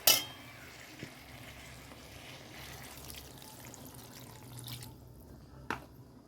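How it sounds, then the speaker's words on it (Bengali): Potatoes cooking in a pan with poppy seed paste and sugar, water poured in with a sharp initial splash, then a steady low sizzle and bubbling, with a brief clatter near the end. "আলুটা একটু গুনবো জল দিয়ে দেবো এবার"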